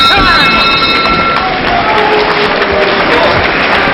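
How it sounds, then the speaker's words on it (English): A boxing crowd at the Ashira vs Calzaghe fight sends up a steady, loud roar of noise that may carry scattered boos, with a commentator's voice running over it for the whole stretch. "Well, a few boos from the crowd"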